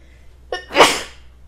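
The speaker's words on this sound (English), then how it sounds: "Oh, I'm gonna sneeze." A single loud, close sneeze, with a short sharp intake of breath followed by an explosive burst that fades quickly, heard on its own.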